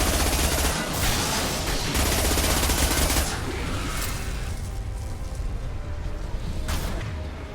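Heavy weapon fire in the video game Mass Effect 2, loud dense bursts of rapid gunshots with booming low-end impacts, sustained through the opening seconds and then continuing as scattered shots and rumbling explosions.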